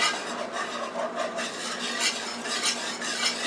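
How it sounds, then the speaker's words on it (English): A utensil stirs flour into a creamy Italian cheese sauce in a pan, making continuous soft scraping and swishing strokes up close, with a faint sizzle beneath and no voices. "you keep stirring it until the flour is dissolved"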